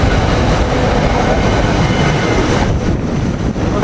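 A two-car SEPTA commuter train rolls in close by, a loud, dense rumble of wheels and motors that holds steady throughout.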